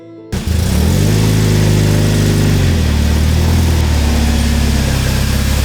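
A rock crawler buggy's 2.4 liter GM Ecotec engine starts and settles into a loud, steady idle close by, its rough mechanical drone continuing without pause.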